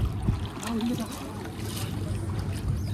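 A boat ride on Nainital Lake: steady low engine or motion rumble and broadband water noise run throughout, with people talking nearby over it.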